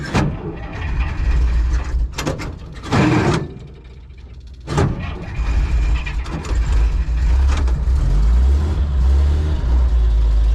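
A 1965 Dodge Power Wagon truck's engine cranks and catches after being started in gear, then rumbles steadily as the truck begins moving, with brief bursts of mechanical noise early on.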